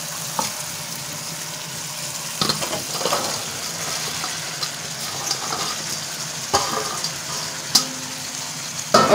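Okra pieces frying in a pan with tomato for bhindi masala, a steady close sizzle broken by scattered clatters of stirring and a few sharp knocks.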